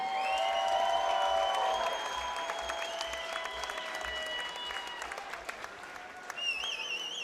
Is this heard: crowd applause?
yes